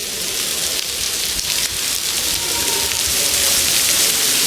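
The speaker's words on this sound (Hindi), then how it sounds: "बारिश देखो कितनी तेज होने लगी यार" Heavy rain pours down steadily outdoors at the old Agra Fort, a dense, loud hiss of drops hitting surfaces that grows slightly stronger toward the end.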